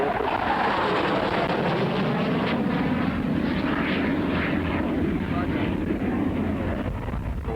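A propeller aerobatic airplane at a 1983 RAAF air show performs an inverted roll pass, a steady broad engine drone with wind noise across the whole stretch, loud and continuous without pause.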